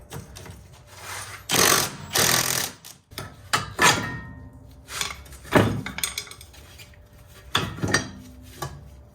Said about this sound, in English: it means I need to use a wrench